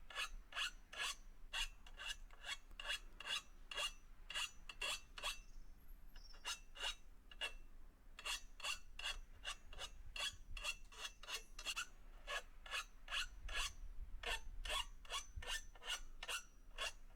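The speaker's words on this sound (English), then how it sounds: "I then used a file just to soften the edges." A hand file rasps along the edges of a pallet-wood butcher's block table top in quick, even back-and-forth strokes, close and fairly quiet, with a brief pause partway through.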